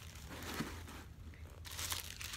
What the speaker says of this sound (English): let me add the stuffing back in